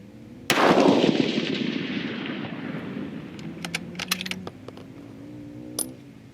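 A single loud rifle shot cracks nearby during a charge-weight test, its boom decaying over a few seconds, followed by faint metallic clinks and rattles as the action is worked.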